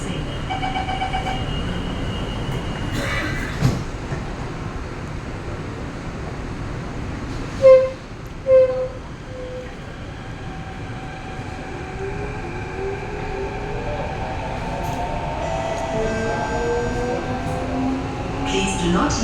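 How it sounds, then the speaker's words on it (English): Singapore MRT metro train running between Bright Hill and Mayflower stations: steady loud rumble of the moving carriage with rising and falling motor whine, a few brief chimes or clanks, continuous throughout. "Please do not lean against the train doors."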